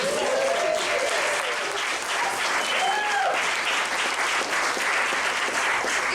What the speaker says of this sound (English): can you clap 44 years?